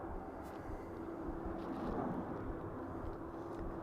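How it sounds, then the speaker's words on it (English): A Ryanair Boeing 737 arriving at Dublin Airport from Billund in poor weather. A faint, steady jet rumble builds slightly and stays distant, with a low tone and some wind noise. No one speaks. "Next up we've Ryanair coming in from Billund, Boeing 737 flight FR"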